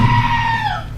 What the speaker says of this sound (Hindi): मैं इस चिल्लाने वाली बकरी को सुन रहा हूँ ना